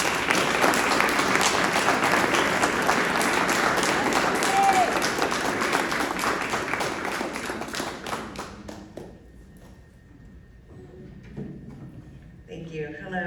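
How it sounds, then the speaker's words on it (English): An audience at a community labor organizing event claps steadily, a dense, loud wash of applause that gradually fades out over several seconds, followed by a few scattered claps and quiet room noise. "Please give a round of applause for Nanette."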